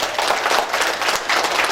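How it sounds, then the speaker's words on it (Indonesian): At a capacity-building session for BPS Riau province, an audience claps together in a short, dense burst. The clapping is close and loud, with slight pulsing and no speech over it. "tepuk tangan untuk kita semua"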